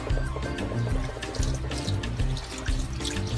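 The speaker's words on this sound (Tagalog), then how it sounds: "buhusan muna natin ng mainit na tubig para maalis yung lansa" Hot water pours from a kettle or pot over cleaned, market-bought fish before steaming, a continuous loud splashing gush over a sink or dish with no talking.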